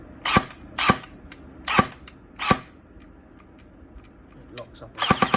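Stock Specna Arms E07 airsoft rifle running a 7430C motor, firing four sharp, evenly spaced single shots up close, then a quick cluster of rapid shots at the end, with quiet mechanical clicks in between.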